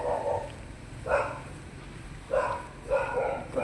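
Dogs bark in short separate bursts, about four or five barks spaced irregularly, at moderate distance over a faint steady background with no talk.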